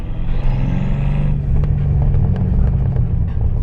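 A BMW F10 M5 drives with a deep, steady engine rumble heard from inside the car, a continuous loud drone with a slight rise in pitch partway through.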